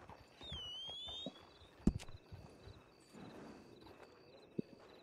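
Horse hooves clip-clop at a stable, a few scattered thuds at moderate distance over a quiet outdoor background with faint insect or whistle-like tones.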